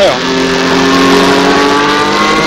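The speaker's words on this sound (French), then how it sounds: "à nouveau c'est l'accélération pour une ligne droite assez courte" A Renault Alpine A442B race car accelerating hard along a short straight, its engine roaring loudly and continuously close by, rising in pitch under steady commentary.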